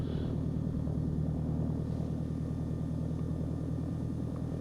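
Piper PA28 Archer III single-engine light aircraft in the X-Plane 12 simulator, engine droning steadily at reduced power during descent, a continuous low propeller hum with no talking.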